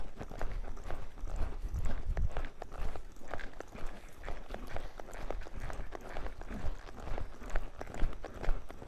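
Ridden horse's hooves clip-clop steadily on the ground as the horse is driven forward into the bridle, a close, continuous rhythmic beat of footfalls with no talk over it.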